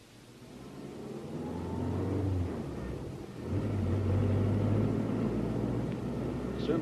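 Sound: car driving in a radio drama

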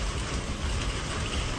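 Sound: large hailstones falling

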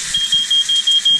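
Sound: smoke alarm going off while cooking

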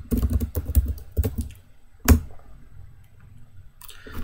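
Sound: typing on a computer keyboard in a terminal

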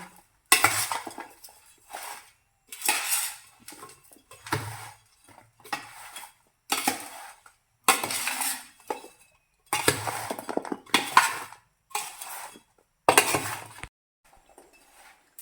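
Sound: mixing mango pickle with spices in a pot

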